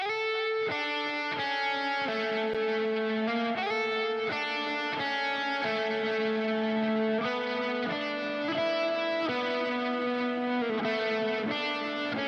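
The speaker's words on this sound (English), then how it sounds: "heavy distortion cabinet with some overdrive pedal, some delay and reverb, some shimmer on it too" Heavily distorted electric guitar through a distortion cabinet with overdrive pedal, delay, reverb and shimmer plays a sustained melodic lead line, notes ringing into each other with echoing delay and reverb.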